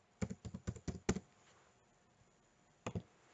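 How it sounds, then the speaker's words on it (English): Quick bursts of keyboard typing, a run of about six keystrokes, a pause, then two more taps, close and fairly quiet. "as I start typing"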